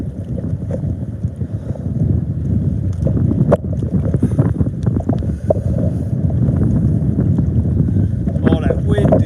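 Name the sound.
strong wind blowing on a boat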